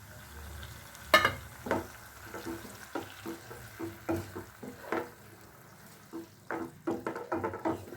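Tamarind juice goes into a pan of sautéed ginger for pickle, giving soft sizzling and irregular stirring scrapes and clinks, quiet and close, with no talking.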